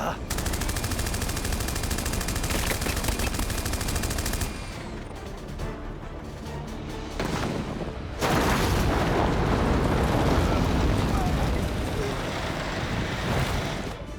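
Gunfire rings out in an animated sci-fi action film, bursts of loud rapid shots layered over a dense roaring soundtrack of wind- and wave-like noise, with a brief lull midway before the barrage resumes.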